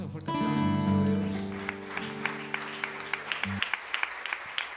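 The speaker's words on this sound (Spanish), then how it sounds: "Demos un fuerte aplauso a nuestro Dios." A church congregation claps at a Spanish-language service. A sustained keyboard chord rings out and fades, then sharp claps follow in a loose, fairly even rhythm.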